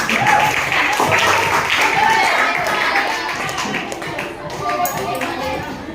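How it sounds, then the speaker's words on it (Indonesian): A classroom claps for three top-scoring students after a quiz, a fairly loud but muffled patter of applause that fades over the last seconds, with faint voices underneath. "sekali lagi tepuk tangan dulu untuk mereka bertiga"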